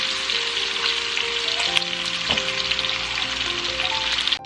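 Chopped vegetables go into a pan with browned smoked sausage and sizzle loudly and continuously at close range, with faint clinks and scrapes mixed in and no talking.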